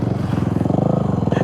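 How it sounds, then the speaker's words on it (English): A Honda CT125 motorcycle revs steadily as its rear tire spins with no grip in mud, a close, continuous throbbing engine drone with a pulsing rhythm and no pauses. "I'm just spinning the tire."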